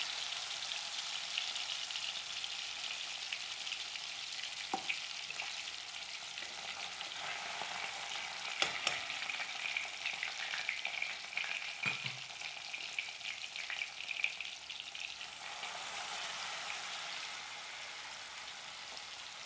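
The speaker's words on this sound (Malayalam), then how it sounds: "വെളിച്ചെണ്ണ ചൂടായി അങ്ങനെ ഓറഞ്ച് നീരിൽ മസാല പരട്ടിയ മീൻ അതിലേക്കിടാം" Fish coated in orange juice masala fries in hot coconut oil with a steady, dense crackling sizzle that holds throughout. A few faint knocks of utensils sound in the background, and no one speaks.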